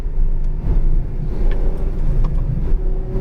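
A Ferrari F12 Berlinetta on a racetrack accelerates with a deep, steady engine rumble heard from inside the cabin, a continuous low roar with faint road and wind noise.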